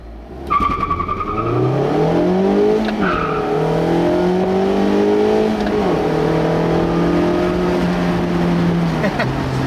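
A 2016 Mazda MX-5 Miata engine revs up through the gears, pitch climbing and dropping with each shift, loud and close with steady road noise.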